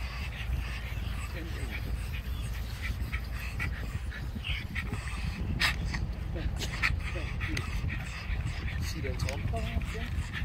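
A terrier out ratting whines and yips in short excited bursts amid panting and rustling, close by, with people talking throughout.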